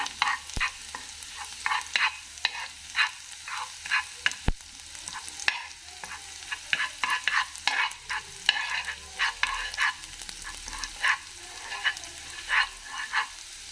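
Garlic paste being stirred in a pan for garlic carrots: a soft sizzle under irregular, repeated scraping and clicking strokes of a spoon against the pan, close up, with no talking.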